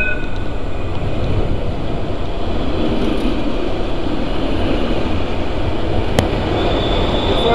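A tram carrying a crowd of protesters rolls past on a Dublin street, a loud continuous rail rumble and hiss with a faint high wheel squeal near the end.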